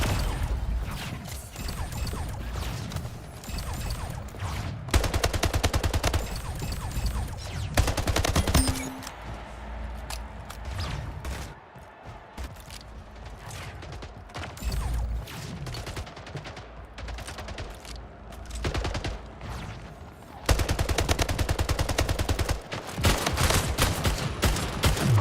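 Carbine gunfire in the shooter game Splitgate: repeated rapid shots in bursts across a busy match, loud and close, with pauses of quieter game noise between volleys.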